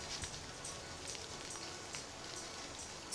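Heavy rain pours down steadily, a dense continuous hiss of drops drumming on surfaces with no pauses, loud and close with no voices.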